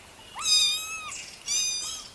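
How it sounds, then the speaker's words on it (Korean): A motherless kitten gives two clear, high-pitched meows, each rising and then holding steady, with a short gap between them and no speech. "어미 잃은 새끼 고양이가 싸웁니다."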